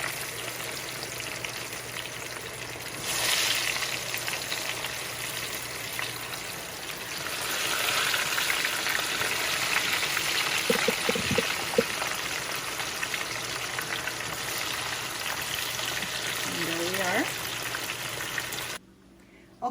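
Fries frying in hot oil: a steady broadband hiss of bubbling oil, continuous and fairly loud, with a few clinks and brief handling noises midway and a short tonal scrape near the end.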